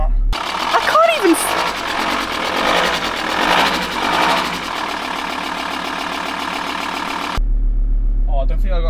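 An old vehicle engine starts first time and settles into a steady, rough idle with a mechanical clatter. It is close and loud throughout, with a voice speaking over it.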